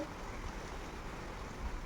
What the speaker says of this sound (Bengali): এখন সকালবেলা যেহেতু বৃষ্টি হচ্ছে